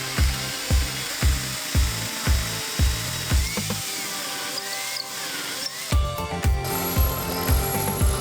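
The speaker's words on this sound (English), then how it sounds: "make a hole using an 8mm drill" An 8mm drill bores a hole into a wooden crusher plate for a DIY can crusher, giving a steady series of loud rhythmic thumping pulses with a brief pause midway, close and without speech.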